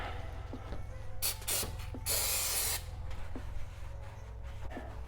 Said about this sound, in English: I'll just take some carb cleaner here.